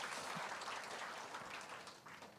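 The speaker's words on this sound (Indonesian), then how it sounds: "Berikan tepuk tangan untuk Tuhan kita." A church congregation claps for God during a sermon, a soft, dense patter of many hands heard at a distance and fading slightly toward the end.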